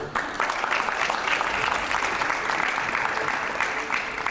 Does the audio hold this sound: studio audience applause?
yes